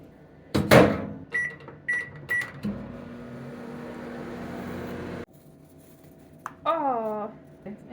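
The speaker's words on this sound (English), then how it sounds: "Microwave time." A microwave oven starts with a few button beeps, then hums steadily for a couple of seconds before stopping, with a door clunk near the start and a person talking afterward.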